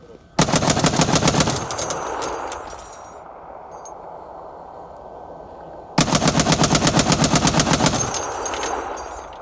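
Two long bursts of rapid, heavy automatic anti-aircraft gunfire from a ZU-23 at the front line ring out loud and close, separated by several seconds of rumbling echo.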